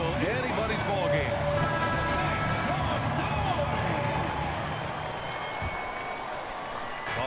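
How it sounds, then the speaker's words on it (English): Arena crowd at an NBA game in Phoenix applauding the Suns youth dance team, a dense continuous roar of clapping and cheering that fills the whole stretch, with a voice faintly heard underneath. "Fans, please give a big round of applause for your Suns youth dance team."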